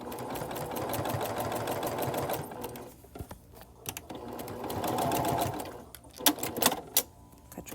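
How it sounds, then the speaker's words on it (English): A sewing machine stitches across a log cabin quilt block in steady runs of rapid, close mechanical chatter, pausing briefly between passes with small clicks and handling sounds. "now I'm going to just sew across one side again"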